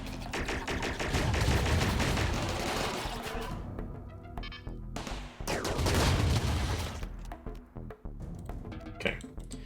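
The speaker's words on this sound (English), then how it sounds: "Most of them have died before they even get inside the base, and the rest will get slaughtered by the turrets" Automated turrets firing at raiders at a RimWorld base: dense volleys of rapid gunfire in two heavy waves, with scattered metallic clinks and sporadic shots between them.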